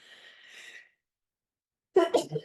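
A short nasal breath sound gives way to silence, then a sudden sharp sneeze burst, close and loud.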